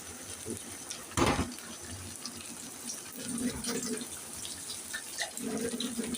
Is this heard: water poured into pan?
yes